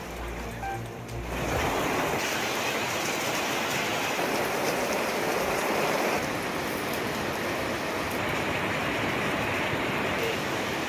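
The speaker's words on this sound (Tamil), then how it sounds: "விழுப்புரம் மாவட்டத்தில் 1 மணி நேரத்திற்கு மேலாக இடியுடன் கூடிய கனமழை." Heavy rain pours steadily over a district in Tamil Nadu during a storm lasting over an hour, a loud, dense wash of downpour that starts abruptly after a short quieter moment and continues unbroken; no distinct thunderclap stands out.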